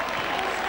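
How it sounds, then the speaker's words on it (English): A rugby league crowd at a 1996 St Helens versus Warrington Regal Trophy semi-final cheers and applauds, a broad, steady roar of clapping heard from a distance. "The crowd are ecstatic."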